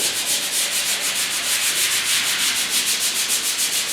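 Light hand sanding of guide coat on the cab bodywork of a 1956 Mercury truck, a steady, even rasping scrub that continues close and unbroken with no talk.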